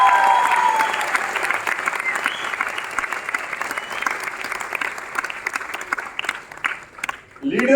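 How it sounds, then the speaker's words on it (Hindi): Loud, sustained applause from a large audience at a Vestige team gathering, steady dense clapping throughout that briefly thins near the end. "जोरदार ताली होनी चाहिए क्राउन डायरेक्टर से नमो।"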